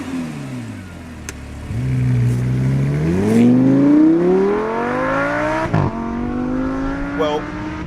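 A Lamborghini Huracan's engine revs and pulls as the car is driven, a rising, close whine that climbs through the gears with brief shifts between, under someone talking.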